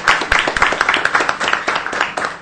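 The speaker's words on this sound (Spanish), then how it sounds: "un aplauso" A small audience at an academic presentation claps after the talk ends, giving distinct, uneven hand claps that are fairly close and sound thin rather than like a full roar.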